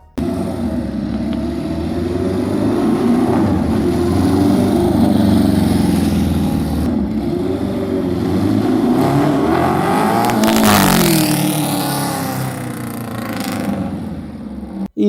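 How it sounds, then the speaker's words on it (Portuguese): A three-cylinder engine with a 180-degree firing interval and an uneven beat runs steadily for about fifteen seconds, loud and close, sounding like a four-cylinder misfiring on one cylinder, with no voices. "temos 3 combustões em tempos iguais a cada 180 graus, seguido de meia volta do motor sem combustão, que no fim acaba lembrando o som de um motor 4 cilindros falhando um cilindro"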